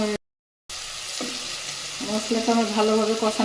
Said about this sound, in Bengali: মশলাটা আমি ভালোভাবে কষাই নেব